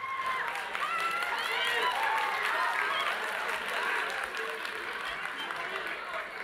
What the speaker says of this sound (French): Applaudissez-les fort.